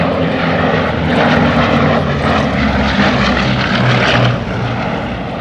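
A Bristol Blenheim Mk. I piston-engine bomber flies at a Battle of Britain air show, its propeller engines making a loud, steady droning roar that swells slightly and eases off near the end.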